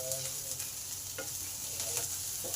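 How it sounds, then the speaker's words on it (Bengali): Garlic, ginger paste and onion fry in a pan, giving a steady, close sizzle with a few stirring scrapes and no talking. "এই আদা রসুন পেঁয়াজ ভালো করে ভেজে নেব।"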